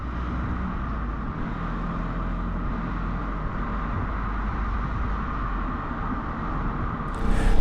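A Yamaha Tricity 300 three-wheel scooter rides along with a steady, loud engine drone and road rumble that holds evenly throughout, rising slightly near the end.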